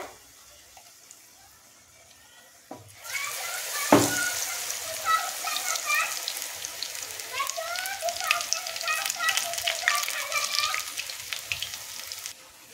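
Kulekhara leaf pakoras in gram flour batter fry in hot oil, a steady close sizzle with bubbling crackle that starts after a quiet opening and continues to the end.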